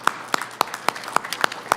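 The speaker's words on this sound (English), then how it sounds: "that deserves a lot of applause." Sparse, evenly spaced single claps ring out in a steady beat at a Roswell city council regular meeting, each one sharp and fairly quiet against a hushed room.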